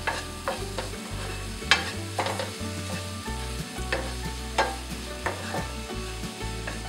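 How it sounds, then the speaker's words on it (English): Mushrooms and green onions sizzle in a pan while a utensil stirs them, a steady frying hiss broken by repeated scraping strokes and occasional sharp taps, close and alone. "and go ahead and stir"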